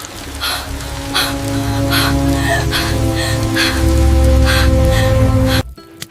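Steady rain pours down at night, a continuous wash of drops with a low hum beneath, ending abruptly.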